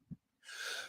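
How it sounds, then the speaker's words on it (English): A single close sneeze: a short breathy intake, then a sharp hissing burst of air that trails off within half a second, with no talk around it. "Gotta sneeze."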